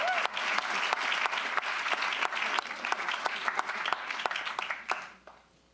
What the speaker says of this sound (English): Huge round of applause for this group.